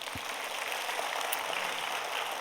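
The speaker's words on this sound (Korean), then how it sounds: "우리 하나님께 영광의 박수 드리겠습니다." A church congregation at a Friday evening service applauds in a dense, steady hiss of many hands, moderately loud and continuous, with no voices on top.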